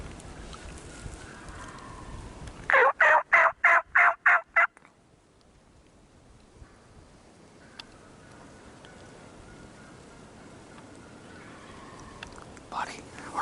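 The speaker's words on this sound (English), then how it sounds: "They're gobbling good." A wild turkey gobbles loudly in a rapid series of about seven pulses on a spring morning in Pennsylvania, followed by quiet outdoor ambience with soft whispering and a few faint distant calls.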